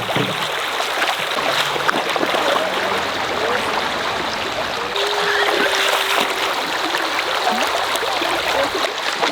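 Water pours steadily into a container for a Joolca HotTap V2 camping shower, a continuous close rushing trickle that holds level throughout with no talking.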